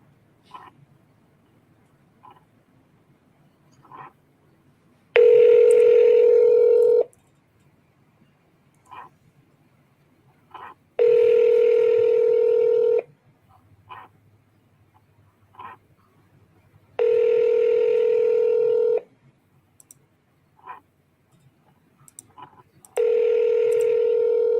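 Telephone dialing tones and ringing on a line, with faint keypad clicks and tones followed by four long, loud, evenly spaced ring tones separated by pauses of several seconds.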